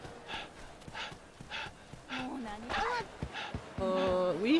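A dog in the samurai-era action game Ryu ga Gotoku Ishin pants and huffs in short bursts with some whining, heard close and mixed with other game sounds.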